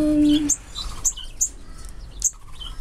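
Small aviary birds give a few short, high chirps and tweets, spaced apart, with a brief tonal call at the start, over quiet outdoor background.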